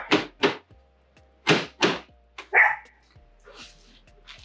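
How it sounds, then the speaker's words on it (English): A Chihuahua barks in sharp, high yips, several coming in quick pairs, close and loud, followed by softer scattered yaps near a pickup truck during a rear bumper swap. "What you barking at, dog?"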